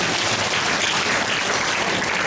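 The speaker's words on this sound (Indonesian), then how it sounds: "Tepuk tangan sekali." Congregation applauding at an Indonesian church thanksgiving service, a dense, steady wash of many hands clapping together, loud and continuous throughout with no talk over it.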